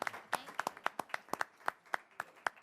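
Sparse audience applause for a Good Egg Award recipient in Park Forest: a small group claps in distinct, separate hand claps with a loose, uneven rhythm rather than a full roar.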